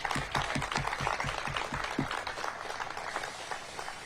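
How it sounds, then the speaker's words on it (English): A crowd at a press event where Mayor Bowser and Amazon announce affordable housing investments gives a round of applause, a dense burst of clapping that is loudest at first and then thins out. "So let's give a round of applause for that."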